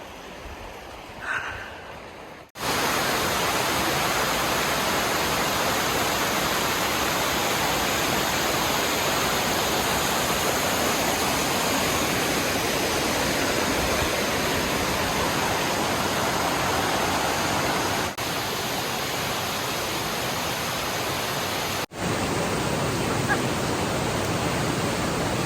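Kings Creek waterfall on the Foothills Trail roars in a steady, loud broadband rush of falling water, heard up close and unbroken for over twenty seconds after a brief quieter opening.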